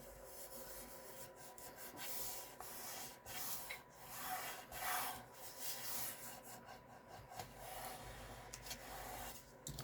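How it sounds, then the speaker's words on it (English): Paper being rubbed firmly over its edges in a paper crafting project, a soft, close scratching and brushing in uneven strokes, quiet and alone. "Gonna rub that all the way over the edges."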